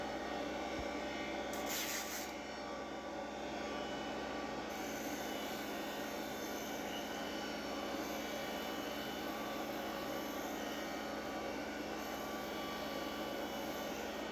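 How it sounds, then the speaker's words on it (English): A spinning lathe hums steadily while sandpaper rubs against a turning wooden birdhouse ornament body in a continuous, even hiss. "Sanding on the lathe is actually pretty easy."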